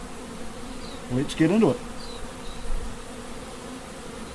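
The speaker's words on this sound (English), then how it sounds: "I shake those bees off downstairs" Honey bees buzz at an open Paradise Honey beehive during a honey box change, a steady low drone running throughout while someone speaks briefly in the middle.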